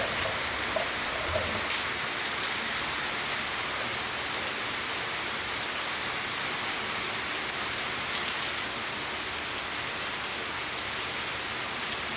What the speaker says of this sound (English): I'm going to use the rain to wet sand.